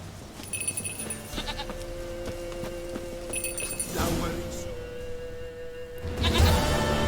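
A goat gives several bleats at intervals over a noisy game soundscape. Hooves clop and speech runs alongside, and a louder bleat comes near the end.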